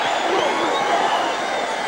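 Freezing football fans in the stands at the NFL Ice Bowl give a play a steady, loud wash of crowd noise and applause, dense and continuous throughout.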